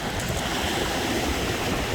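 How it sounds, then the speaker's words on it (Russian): Stormy Black Sea surf at Kudepsta in Sochi roars steadily in cold, icy wind, a loud, unbroken wash of waves and wind buffeting with no voices. "Вот такие вот волны."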